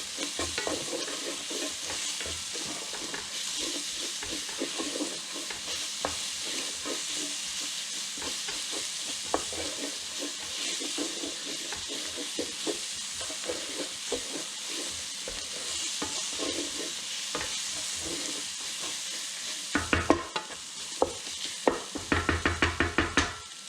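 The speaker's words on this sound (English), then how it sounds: "So I'm going to add the garlic. And get this all cooked in for about 30 to 45 seconds." Garlic frying and being stirred in a pan, a steady close sizzle with scraping stir strokes throughout and a burst of sharper clatters near the end, no voices.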